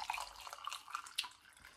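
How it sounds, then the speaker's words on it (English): Homemade drink poured into a glass, a faint, thin trickle of liquid with a few brief splashes and drips running through a short, quiet stretch. "I'm just going to pour it out for her."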